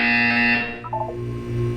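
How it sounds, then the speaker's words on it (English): The Portal 2 test chamber buzzer sounds as a steady, loud electronic tone that cuts off partway, followed by a brief descending chime over a low background hum. "When you hear the buzzer, look down at the floor."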